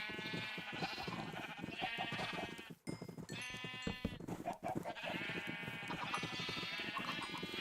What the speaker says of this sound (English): the sheep kind of get out of hand trying to feed them